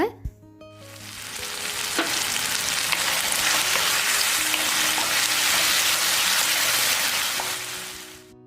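Tomatoes and a green chilli sauté in a pan for pasta sauce, a loud steady sizzle filling the whole stretch, with a brief clink near the start and no talking.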